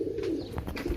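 Pigeons in a breeding loft, including domed and French pairs, give a low, soft, continuous cooing hum, fairly faint and steady with a few faint higher sounds above it.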